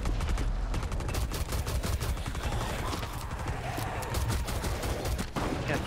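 Gunfire in Rainbow Six Siege Outbreak mode, loud rapid bursts of automatic fire with dense, repeated shots over several seconds, close and continuous, with faint voices underneath.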